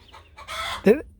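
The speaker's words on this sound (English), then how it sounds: "Looks like the chickens are hollering at me." Backyard chickens clucking and squawking loudly up close in a short burst, one sharp rising call standing out at the end.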